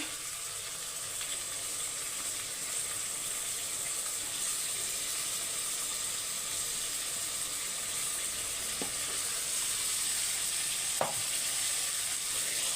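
Tomatoes and capsicum sizzle steadily in a hot frying pan, a continuous bright crackle with a couple of faint utensil taps.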